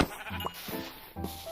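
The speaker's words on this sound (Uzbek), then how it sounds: "Qo'ylar." Sheep bleating in a video game, three short wavering bleats in quick succession, close and fairly quiet.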